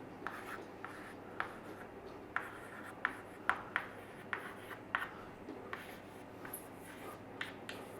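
A teacher writing on a board during a chemistry lesson on solutions, with scattered light taps and short scratchy strokes at an irregular pace, faint and somewhat distant over a low room hum.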